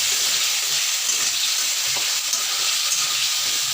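Spice masala sizzles and fries in a pan for a chhana bora curry, a steady close crackling hiss that holds evenly throughout, with no one talking.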